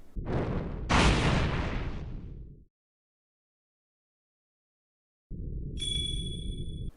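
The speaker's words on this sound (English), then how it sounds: "the sound of the bell hitting the ground suddenly seems to send Mile reeling in pain" A bell from the video game The Legend of Heroes IV: A Tear of Vermillion falls to the ground with heavy crashing bursts, then a long silence, then a low rumble carrying a bright, sustained ringing tone.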